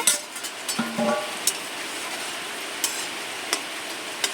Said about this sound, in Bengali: মাছটা দিয়ে বেশ কিছুক্ষণ ফুটিয়ে নিয়েছি এবারে ঢাকাটা খুলব